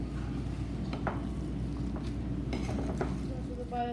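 Burger meat being mixed by hand with black pepper in a bowl, producing soft, squishy stirring and occasional light clinks, close and fairly quiet under a steady background hum.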